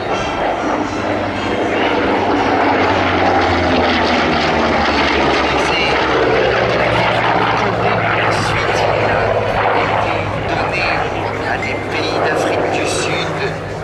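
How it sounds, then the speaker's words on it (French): A vintage propeller warbird first flown in 1951 passes at an air show in Cambrai, its loud piston engine droning steadily with a rising and falling roar across the whole stretch while a voice talks over it. "L'avion qui vous est présenté devant vous a volé pour la première fois en 1951"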